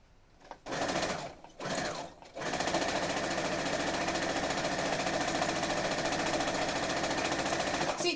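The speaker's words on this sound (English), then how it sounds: "So you notice how I'm cutting this off and moving it away as I'm sewing something else in there." A sewing machine stitches a glow-in-the-dark Ghostbusters quilt. It runs in two short bursts, then settles into a long, steady, loud whir close by.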